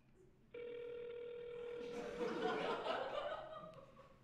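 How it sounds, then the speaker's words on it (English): An outgoing mobile call rings on the line, a steady electronic tone that begins abruptly and holds, with people chuckling and talking softly over it. "I'm ringing her."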